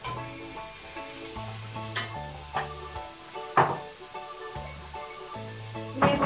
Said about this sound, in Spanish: Yo se lo voy a sofrir todo a la vez.